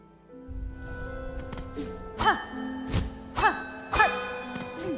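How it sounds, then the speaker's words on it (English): Bells struck in Hollow Knight: Silksong, three bright chiming tones ringing out one after another at roughly one-second intervals over a soft game backdrop. "I've hit all 3 bells"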